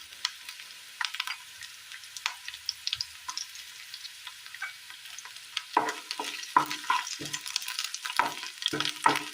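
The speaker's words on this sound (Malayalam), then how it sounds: "2 പച്ചമുളക് അരിഞ്ഞത് ചേർത്ത് കൊടുക്കാം." Sliced onions and chopped green chillies are sautéed in a pan, a soft sizzle under sharp spoon scrapes and taps that grow busier toward the end, close and fairly quiet, with no voices.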